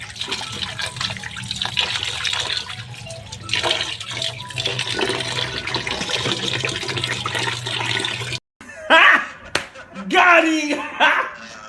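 Chicken liver and gizzard get washed by hand in water, with wet sloshing, slapping and splashing close up, then a brief pause followed by louder rinsing and pouring sounds.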